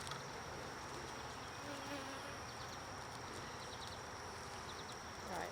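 Honey bees swarm around an open hive during a first-year bee yard inspection, a dense, continuous buzz filling the air close by with a few brief louder passes of individual bees and no talk.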